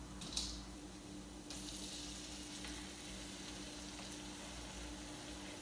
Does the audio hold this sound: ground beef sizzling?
yes